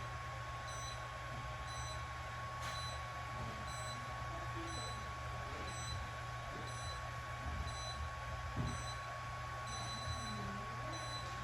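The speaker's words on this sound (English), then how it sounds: "you'll hear the beeping the entire time that the treatment is occurring" Periodic beeps from a K-Laser therapy device run steadily through a laser treatment, evenly spaced and moderately loud over a constant background hum.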